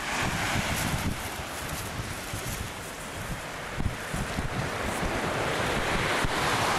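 Strong wind buffets the microphone in steady gusts at Trinity Beach near Cairns, Australia, with surf rushing underneath throughout and no voices.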